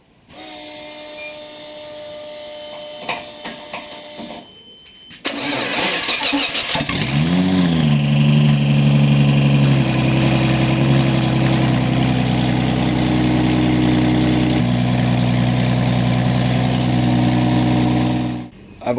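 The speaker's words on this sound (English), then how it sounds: "So now we're going to start it up, see how crazy it sounds with the exhaust off it." After some quiet clicks, a Nissan 180SX engine with its exhaust removed cranks and fires into a loud, raw, unmuffled roar, then settles into a rough, steady idle close by.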